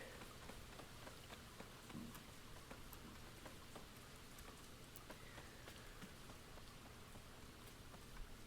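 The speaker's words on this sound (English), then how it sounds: "Oh, got a nice little rainy day." Rain falling in the video game Boundless, a soft, constant hiss of drops with occasional faint ticks, quiet and even throughout with no talking.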